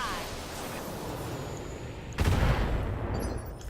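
Mech weapons firing in the BattleTech video game, a dense continuous barrage of gunfire and blasts that swells sharply louder partway through, with heavy low rumbling impacts.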